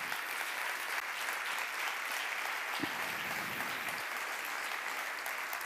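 Steady, dense applause from a crowd at a university campus anniversary closing ceremony in Gandia, Spain, fills the whole stretch without pause.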